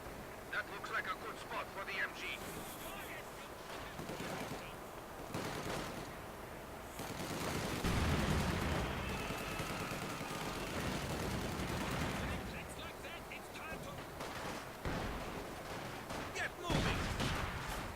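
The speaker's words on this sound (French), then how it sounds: "j'utilise très bien ma mitrailleuse lourde pour pouvoir défendre mon point" A heavy machine gun firing in Company of Heroes 2, rapid bursts and scattered gunfire with explosions in a wartime battle, sounding at moderate distance under someone talking throughout.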